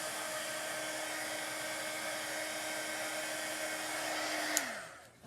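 A heat gun blows steadily while melting embossing powder for heat embossing, a continuous airy whine and hiss held close, then winding down and cutting off near the end.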